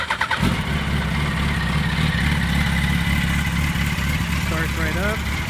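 A 2005 Yamaha R1 Raven Edition sportbike on its stock exhaust cranks and fires up, then settles into a steady, close idle while a person talks over the engine.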